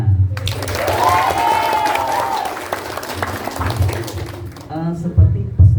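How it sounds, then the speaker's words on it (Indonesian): Audience at a school theatre performance by an Islamic girls' madrasa clapping, a steady rattle of applause rising and lingering for several seconds, with a voice speaking over it and a couple of louder thumps near the end. "Kita kasih tepuk tangan."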